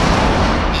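A tank cannon fires during a World of Tanks clan battle: a single loud, dense, broadband boom that fills the whole moment with no pause.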